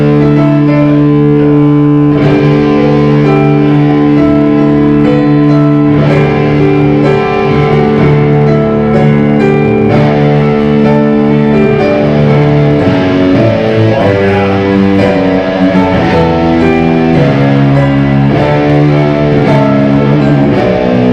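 A guitar holds a droning pedal tone under shifting notes above it, a loud, continuous, effects-laden sound with steady sustain and no talking.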